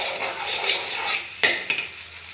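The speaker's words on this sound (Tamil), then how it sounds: "இப்போது ஒரு கொத்து கருவேப்பிலை ஃப்ரெஷ்ஷாக போட்டு ஃப்ரை பண்ணிவிட்டேன்." Curry leaves fry with goat brain in a pan, a dense close sizzle with two sharp metallic knocks of a spoon against the pan near the end.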